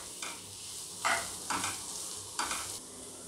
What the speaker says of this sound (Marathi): हे सगळं 2 ते 3 मिनिट फ्राय करून घ्यायचं आहे.